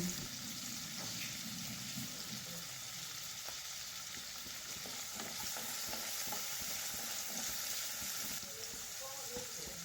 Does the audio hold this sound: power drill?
no